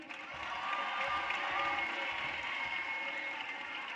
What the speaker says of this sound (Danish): Kan vi lige få et kæmpe bifald til